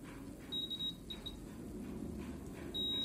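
A multimeter gives continuity beeps while probing a component tied to pin 1 of a PS2 section on a motherboard: short, thin electronic tones, first a few quick chirps, then a longer steady beep near the end, over a low background hum.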